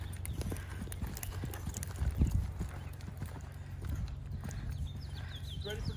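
A horse lopes past in an arena, its hooves thudding in a rolling three-beat rhythm close by, with a short heavier burst of hoofbeats midway and a voice faintly audible in the background.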